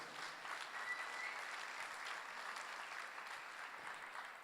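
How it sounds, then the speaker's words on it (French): Sustained applause from a gala audience at an awards evening, honouring a cinematographer: a dense, even wash of many hands clapping steadily, moderately distant, with no voices over it. "on l'applaudit bien fort"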